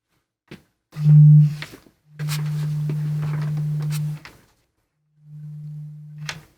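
A pure low sine tone from a digital oscillator sounds in three separate bursts, a short loud one, a longer sustained one and a quieter final one, with silence between.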